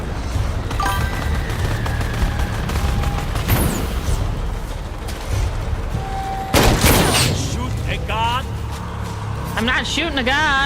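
Shooter video game gunfire: loud bursts of shots and booms go off repeatedly across the clip, with electronic game effects, while a player talks over the action.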